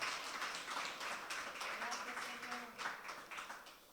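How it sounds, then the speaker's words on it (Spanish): A church congregation claps along during a sermon, a steady wash of many hands close by, with voices mixed in beneath the applause. "Dale fuerte el aplauso al Señor."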